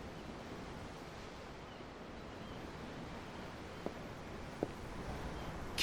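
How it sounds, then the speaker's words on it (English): Ocean waves wash steadily at sea in Tales of Arise, a soft continuous surf with faint wind, broken only by a couple of brief clicks near the end. "The ocean? Yeah. The waves."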